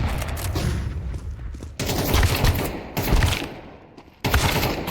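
Gunfire and a grenade explosion in a first-person shooter game, with dense, loud bursts of rapid shots and booms continuing without break, a couple of sudden blasts punctuating the barrage.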